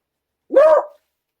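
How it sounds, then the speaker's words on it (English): Dog giving a single short, sharp bark, loud and close, in an otherwise silent room. "the dog's growling at something."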